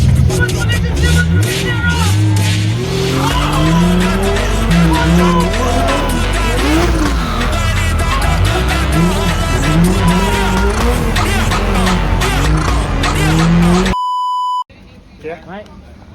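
A custom Nissan Cefiro drifts with a loud, sustained engine roar and tire squeal over a dense, continuous mix of noise, then cuts off abruptly into brief electronic beeps and a quieter tail.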